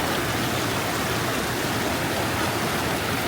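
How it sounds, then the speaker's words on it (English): Sauniatu Falls in the Samoan jungle, a steady broadband rush of falling water, constant and enveloping with no breaks. "So the waterfall's just there, but we decided to come here to the quiet spot of Sauniatu Falls"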